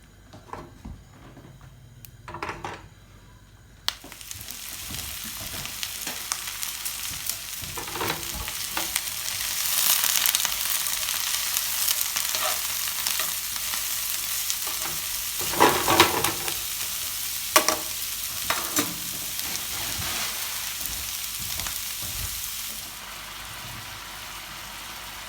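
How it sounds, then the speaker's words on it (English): Thin slices of beef frying and being stirred in a hot pan: a steady, loud sizzle with scraping and clattering from stirring and flipping, close up with no talking. "I'm going to flip it around and finish the cooking of the meat"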